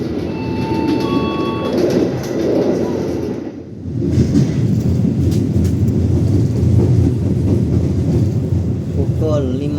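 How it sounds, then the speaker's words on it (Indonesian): Ijen Express passenger train pulling into Banyuwangi Kota station, a loud continuous rumble of wheels and carriage noise with wind buffeting, broken by a brief dip, then steady rolling again, with a tonal announcement chime early on. "kereta api Ijen Express tiba di stasiun Banyuwangi Kota"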